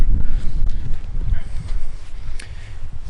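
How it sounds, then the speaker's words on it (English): Wind gusts outdoors, buffeting the microphone with a steady low rumble that swells and eases throughout, with no other clear sound above it. "I think it's getting a little windy here."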